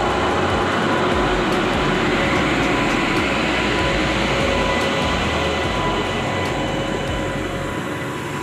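A train engine passes close by on a railway track near Bashettihalli station, giving a loud, continuous rumble and rolling wheel noise throughout.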